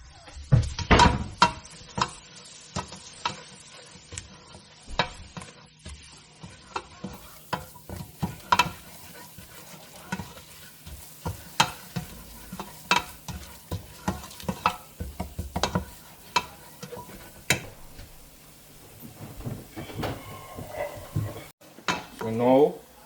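A spoon scrapes and clinks against a pot while flour cooks into a roux for creamy jerk chicken pasta, with repeated irregular stirring knocks over a low sizzle.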